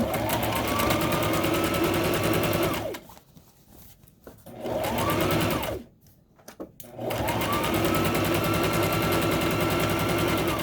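A sewing machine stitching a tote bag runs in three loud, steady bursts of rapid mechanical whirring, with short pauses between them.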